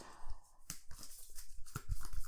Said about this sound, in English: so let's just give a good shuffle